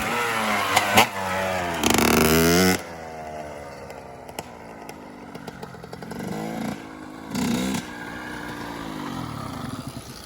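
A Yamaha 125 RXZ two-stroke motorcycle revs hard as its rider lifts into a wheelie, the engine surging in loud bursts, dropping back to a buzzing idle, then climbing again, close and dominant throughout.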